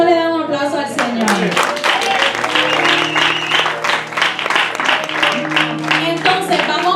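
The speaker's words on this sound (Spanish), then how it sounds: "¿Cuánto le dan un aplauso al Señor?" A church congregation breaks into applause, dense rapid clapping building and holding over several seconds, with tonal voices or music sounding through it.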